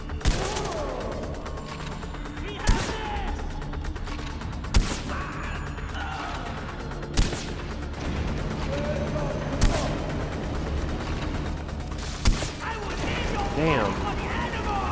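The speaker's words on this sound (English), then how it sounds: "I'm gonna try to shoot the gas tank on the back." Gunfire aimed at the gas tank on a heavy enemy's back in Far Cry 4: sharp single shots spaced a few seconds apart over a steady bed of game ambience and music.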